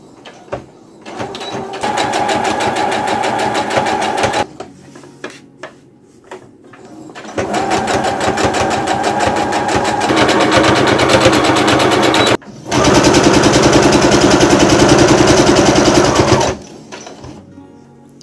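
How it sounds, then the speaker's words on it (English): Sewing machine stitching the edges of outer fabric pieces for a book sleeve, running loud and close in three sustained bursts separated by short pauses. "we sewed the 2 pieces of outer fabric together, right sides together, and we sewed 3 edges"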